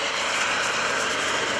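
An EC135 helicopter, the AirMed 1 medical aircraft, passes at an airshow as a loud, steady broadband engine and rotor roar with no pauses.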